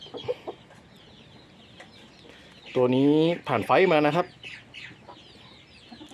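Burmese chickens cluck loudly in a short burst partway through, with someone talking quietly before and after over faint farmyard background noise.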